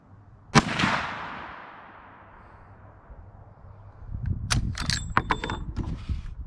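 Henry H010B Government rifle fires its first shot outdoors: one sharp, loud report that rings and decays over about a second, followed a few seconds later by a cluster of quieter clanks and clicks.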